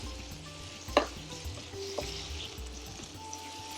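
Keema mince fries in a pan with a constant low sizzle while a utensil stirs and scrapes through it, opening with one sharp clink followed by softer scraping strokes.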